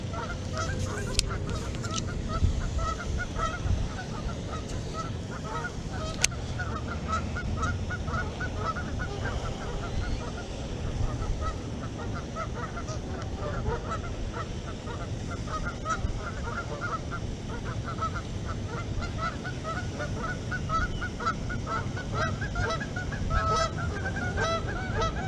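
Ducks and geese honk and quack in a busy, continuous chorus at an urban fishing spot in Arizona one morning, calls overlapping at middle distance over steady outdoor ambience.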